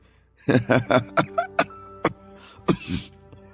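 An elderly man's series of about six sharp, rhythmic coughs close up, followed by a couple more rough coughs and a throat-clearing rasp.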